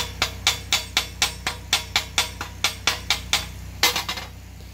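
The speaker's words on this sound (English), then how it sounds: "So I'm gonna use this little baby hammer here." A small hammer taps a welded metal receiver hitch grill in a steady rhythm, about a dozen sharp, ringing strikes close by, with a low hum underneath.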